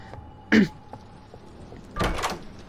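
A door in the Roblox game Doors opens with two distinct bursts, a short clunk followed by a longer creaking swing, over quiet background hiss.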